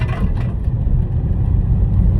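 A manual off-road car on Thunder MT tires pulls out of a parking lot, a steady low engine and tire rumble holding close and even, with no voices.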